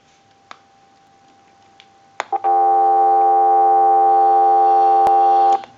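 A steady telephone dial tone from a field telephone on a repair bench starts after a few faint clicks and holds unbroken and loud for about three seconds before cutting off.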